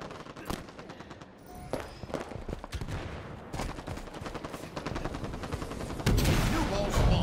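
Halo 5: Guardians battle gunfire crackles in dense, rapid volleys of shots, mostly mid-distance, building to a louder, heavier barrage toward the end, with speech faintly underneath.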